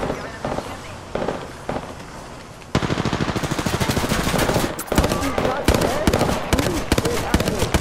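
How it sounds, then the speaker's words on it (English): Apex Legends gunfire starts as a few spaced shots and then becomes a dense, loud rapid string of blasts and impacts lasting several seconds, close up, with a voice talking over parts of it. "I am pumping shotgun shells into them."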